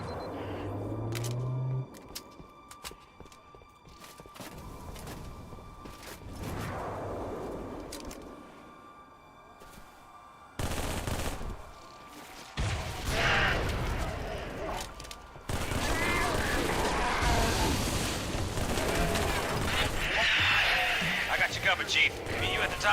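Gunfire in Halo: The Master Chief Collection, with Sentinels, the Arbiter and a Spartan laser in the fight, crackling in bursts and steadier streams through the second half, while a player keeps talking over the shooting.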